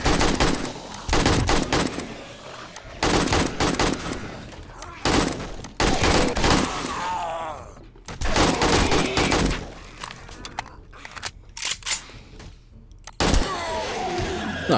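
AK rifle gunfire in the video game 7 Days To Die, loud sharp bursts of rapid shots in several separate volleys with brief pauses between, and a short spoken exclamation heard once.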